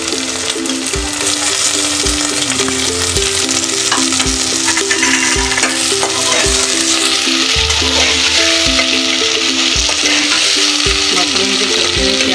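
Onions tipped into a pan for a mushroom masala fry with a loud, dense sizzle throughout, accompanied by repeated stirring knocks and scrapes of a spoon against the pan. There is no speech.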